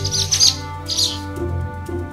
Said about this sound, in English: I see a red bird looking at me.